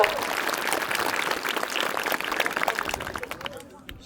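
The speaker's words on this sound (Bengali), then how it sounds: "আমরা করতালির মাধ্যমে অভিনন্দন জানাবো" A crowd at a high school gathering in Baliadangi, Thakurgaon claps in dense, sustained applause that thins out near the end, with some voices mixed in.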